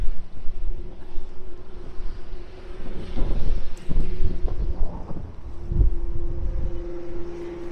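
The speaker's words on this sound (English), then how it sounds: "that wind." Strong storm wind buffets the microphone on Blackpool seafront, a loud continuous roar with gusts that surge and swell, mixed with low rumbling from the exposed promenade.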